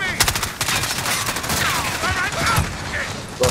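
Rapid gunfire rattles in a video game shootout, a dense, close burst of repeated cracks with faint voices mixed in, though it sounds more like sustained automatic fire than single sniper shots.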